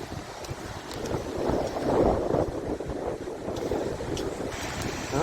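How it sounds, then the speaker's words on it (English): Wind blowing steadily across a Lake Michigan beach at Silver Beach in St. Joseph, Michigan, a continuous rumbling gusty roar on the microphone with faint wave wash beneath. "the wind's picking up"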